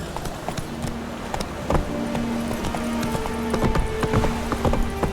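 Horse hooves pound in a rapid, rhythmic clip-clop gallop in The Witcher 3, close and continuous, with faint game music tones underneath.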